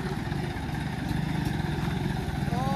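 Motorcycle engine running close by, a continuous low throbbing drone with some rattle, fairly quiet and steady throughout.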